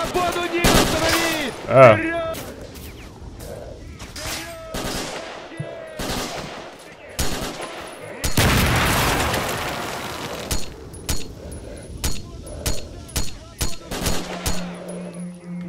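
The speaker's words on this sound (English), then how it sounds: "These guys kind of look kind of threatening, and they shoot at me." Enemy gunfire in STALKER: Shadow of Chernobyl rattles in bursts and single sharp shots, loud and near, with a long sustained volley midway and a steady string of evenly spaced shots toward the end; a brief exclamation is heard.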